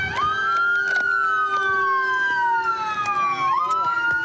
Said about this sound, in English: Hey, cut that siren.